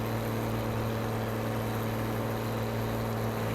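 A tractor engine hums steadily in Farming Simulator 17 on a tiny road, giving a constant low droning idle with no change in pitch across the short stretch.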